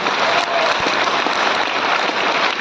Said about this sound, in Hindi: Madam, sir sir sir sir एक जोरदार तालियां सबके लिए।